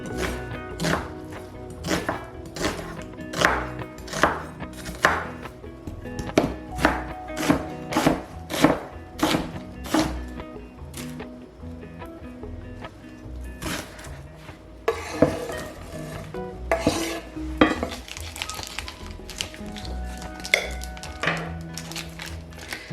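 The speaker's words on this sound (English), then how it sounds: "I want to saute an onion." An onion is chopped on a cutting board for a weeknight dinner, heard as a long run of steady, close knife thunks, followed by looser clattering of pan and utensils.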